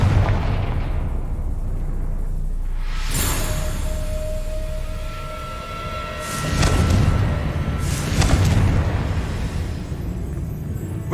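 Confringo fire-blast spells cast in Hogwarts Legacy, three sharp explosive bursts spaced a few seconds apart over a loud rumbling game background.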